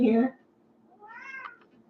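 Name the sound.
cat meowing at the door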